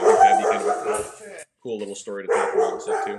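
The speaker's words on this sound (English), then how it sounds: "That's my dog here." A dog barks and yips in short bursts close by, interrupting someone talking over a live stream call.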